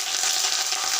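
Curry leaves sizzle in hot oil with mustard seeds, cumin, dried red chillies and a little onion, giving a brief, continuous, close hiss of frying.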